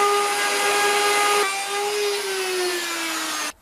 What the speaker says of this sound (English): I just take my template, place it on top of here, and start routing just like I did with the back legs